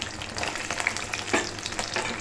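Chilies and garlic cloves frying in a pan for gongura pachadi, a steady close crackling sizzle with occasional louder pops and scraping from stirring, heard alone without speech.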